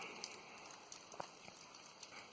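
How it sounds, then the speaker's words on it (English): Soft, steady patter of light rain with scattered faint drips, a quiet continuous hiss without any talking. "even in this is just a light drizzle"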